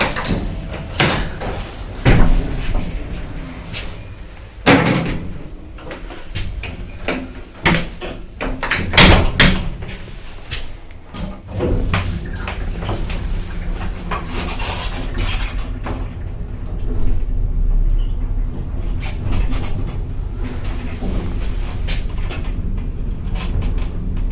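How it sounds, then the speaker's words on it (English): Old original lift doors in a Brutalist tower block, sliding and clanking with repeated bangs, rattles and a squeak, followed by a steady mechanical hum of the lift running. "And this one has got an original lift. This lift is old and very interesting."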